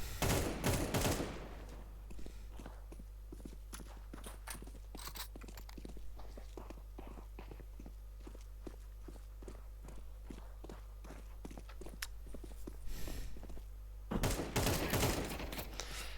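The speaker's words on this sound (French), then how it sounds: "Pourquoi son AK elle tire pas bien?" Rapid bursts of AK rifle fire in Counter-Strike 2, a busy run of sharp automatic shots with footstep-like taps, steady through the middle and louder at the start and end, with no speech.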